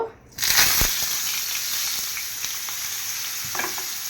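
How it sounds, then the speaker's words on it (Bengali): Spice-coated hilsa fish hits hot oil in a pan with a dense, close sizzle that holds steady, broken by a few sharper crackles and the clatter of a turning utensil. "ইলিশ মাছের মধ্যে মশলা মাখাইছি ইলিশ মাছটা ভাজবো"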